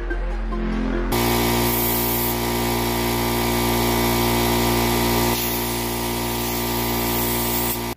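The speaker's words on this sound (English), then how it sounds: "I just blew the carburetor out" A compressed air hose blasts into a carburetor with a loud, steady hiss and roar, shifting in tone as the nozzle moves. It runs continuously and close with no talking.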